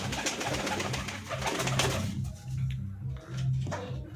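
Pigeons in a loft are cooing. Low throaty coos repeat close by in short bouts over a busy, rustling background.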